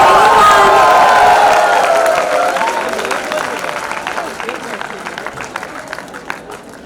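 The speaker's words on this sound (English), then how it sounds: "A big round of collective applause for" Audience applause and cheering for a graduating PGDM batch at a business school convocation, loud at first with whoops and then slowly fading as the clapping thins out.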